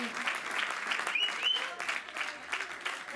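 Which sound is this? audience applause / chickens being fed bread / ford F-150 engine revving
audience applause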